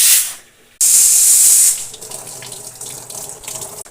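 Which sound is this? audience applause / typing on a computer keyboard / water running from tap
water running from tap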